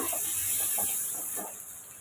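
Ginger, garlic, onion and chili sauté in a pan with a soft steady hiss and faint stirring scrapes, quiet and close, fading slightly toward the end.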